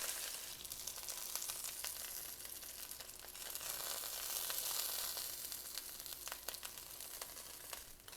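Greek meatballs sizzling in a skillet, a close, steady crackle and hiss with scattered pops throughout, no voices.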